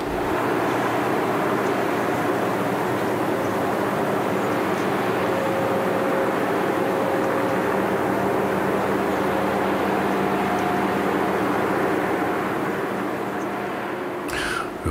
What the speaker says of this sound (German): Wir hören uns mal kurz an, was die Motoren so sagen.